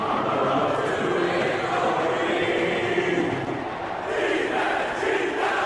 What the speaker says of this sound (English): This crowd going to have to calm down so the Eagles can hear the snap count.